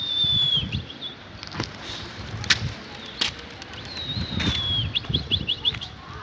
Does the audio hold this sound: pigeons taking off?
yes